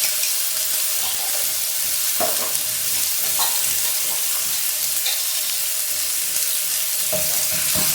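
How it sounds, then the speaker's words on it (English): Garlic and ginger paste frying in hot oil, a loud, steady, dense sizzle with small pops and stirring sounds, close up and without talk. "put in my garlic and ginger paste"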